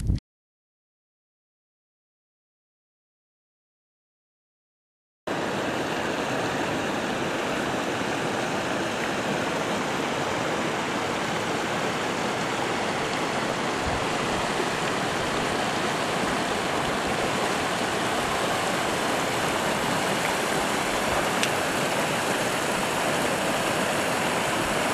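Fish Creek rushing beneath a footbridge on the John Muir Trail, a loud, steady wash of flowing water that begins after a few seconds of silence and continues unbroken and close.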